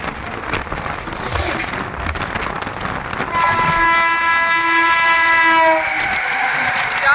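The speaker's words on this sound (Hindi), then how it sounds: "पीछे से आ रही है राजधानी एक्सप्रेस, पैदल ओवरटेक करने" A Rajdhani Express passes close while overtaking, its wheels clattering and rumbling steadily before a loud, sustained horn blares over the rolling noise for several seconds.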